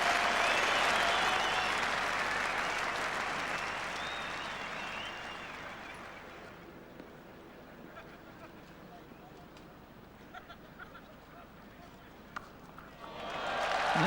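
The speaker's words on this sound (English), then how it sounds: "Applause of relief more than appreciation" Applause from the cricket crowd at Trent Bridge during the 1989 England v Australia Test fades out over several seconds to quiet ground ambience with scattered claps, then swells back at the end.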